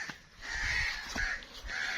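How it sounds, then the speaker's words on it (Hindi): Several crows caw harshly from nearby, with repeated raspy calls rising and falling against a low rumble of wind or distant noise. "इधर देखे बहुत ज्यादा कौवे आ चुके हैं।"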